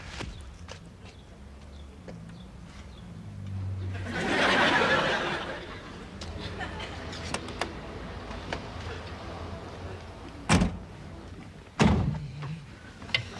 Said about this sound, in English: you don't have to slam the door